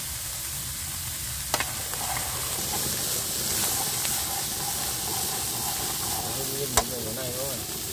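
Stink bugs stir-fried in a pan with lime leaves give a steady close sizzle and hiss, with a couple of sharp clicks from the pan partway through.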